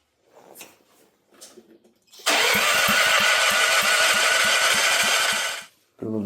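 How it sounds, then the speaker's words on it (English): A seized, trashed generator engine cranks on a freshly charged battery, a steady rhythmic chugging of the starter that runs for about three seconds at close range, preceded by faint clicks and handling sounds. "let's give her a crank. Got the battery charged up."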